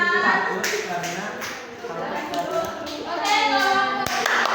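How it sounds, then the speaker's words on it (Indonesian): A school class claps together during a counselling lesson on managing emotions, with several bursts of brisk hand clapping mixed with children's and adults' voices talking over it. "Ya, selamat tepuk tangan."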